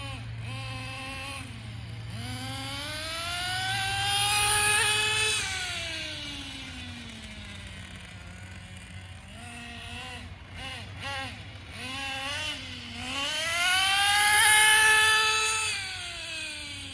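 The nitro engine of a Traxxas Nitro Bandit RC car buzzes loudly, revving up and down in rising and falling sweeps, climbing to high-pitched screams twice, with a low hum beneath.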